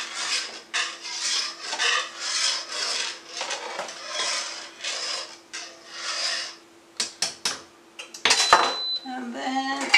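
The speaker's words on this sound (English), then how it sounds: "I'm whisking it." Whisk scraping and rasping in a pot as a puréed vegetable mixture is stirred into broth for red tamale sauce, a continuous metallic swishing with occasional clanks near the end, close and fairly loud.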